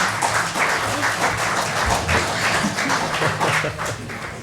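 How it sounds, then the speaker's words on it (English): Applause at a council special business meeting, a steady burst of many hands clapping at moderate distance in a large room, sustained throughout. "Well, you can have the applause, Ms. Hamilton"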